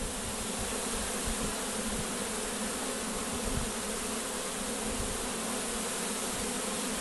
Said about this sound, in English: All the other bees vibrate and the queen doesn't, just drags her body straight over the top.